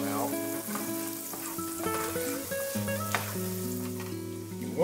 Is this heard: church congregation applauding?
no